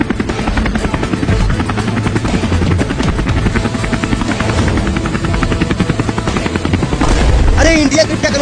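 A large helicopter in flight, its loud, steady rotor chop pulsing close and continuously, while people talk over it.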